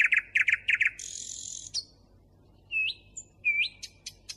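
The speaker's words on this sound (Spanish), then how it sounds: "El ruiseñor que está sonando ahí es el único pájaro que canta de noche" Nightingales sing at night, alone and fairly close, with rapid repeated chirps, a buzzing trill and rising whistled notes separated by short pauses.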